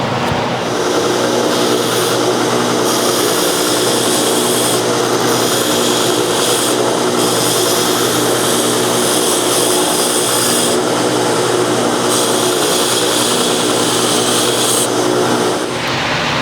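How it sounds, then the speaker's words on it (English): A slack belt grinder running a 120 grit belt sands knife scales with a loud, continuous close whir and grinding rasp that varies slightly with pressure throughout. "I'm using 120 grit slack belt."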